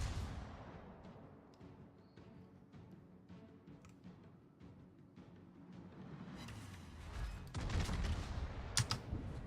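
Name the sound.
naval gunfire in World of Warships video game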